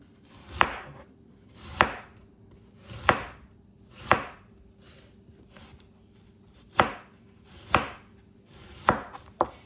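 Onion being chopped on a cutting board, about eight sharp knife strikes at uneven intervals of roughly a second, close and clear with no talk.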